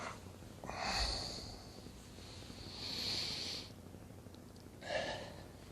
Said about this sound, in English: with these videos you can hear me breathing heavy